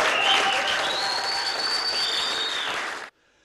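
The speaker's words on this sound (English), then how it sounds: "The result was made public to a deafening round of applause." Deafening applause from a crowd of shareholders as a vote result is announced in Dunedin, loud and sustained for about three seconds before cutting off sharply.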